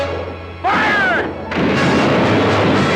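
Rifles firing in a battle scene from a western film, a loud near volley of shots with a brief shout and lingering rumbling echo and clatter afterward.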